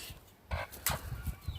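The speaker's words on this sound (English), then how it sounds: "So they're really sweet chickens." Chickens at an allotment coop cluck in short close bursts against a busy outdoor background, with a few separate calls spread across the moment.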